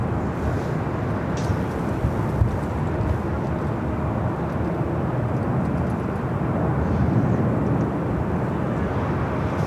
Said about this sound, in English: Number 2 for arrival at Delta Airlines Flight 422, 767-300ER coming in from Honolulu